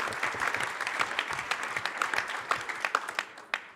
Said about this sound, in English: So a big round of applause for Nigel Fair, David Litchfield, Troy Hunt and Justin Stephen with 2 out of 4